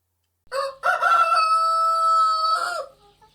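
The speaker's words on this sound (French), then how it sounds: "Et aussitôt, un coq chanta." A single rooster crows a long, loud cock-a-doodle-doo, clear and close, followed by silence.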